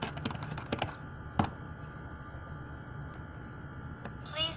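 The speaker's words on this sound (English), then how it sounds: "Please type in credential number." Keys tapped on a computer keyboard while a credential number is entered, a quick cluster of clicks at the start and one sharper tap shortly after, over a steady low electronic hum.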